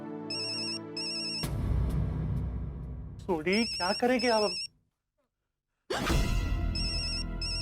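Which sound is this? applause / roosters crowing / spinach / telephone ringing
telephone ringing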